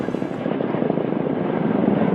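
Kamov Black Shark helicopter, a loud, close rotor and turbine roar with a rapid throbbing beat, steady throughout the short span.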